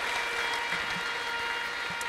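An audience at a church service claps steadily, a dense, even patter of applause filling the short moment without any pause.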